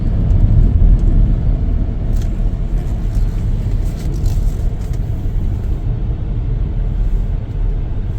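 A 2021 Ford F150 XL regular cab pickup on a test drive gives a steady, close engine and road rumble, even in loudness throughout with no talking.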